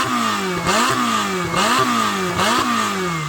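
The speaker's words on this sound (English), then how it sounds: "let's have a listen to the Ferrari with its turbochargers" A turbocharged Ferrari 488 Pista engine revs repeatedly in quick rising and falling sweeps, loud and close, about four rev cycles in a row with no talking.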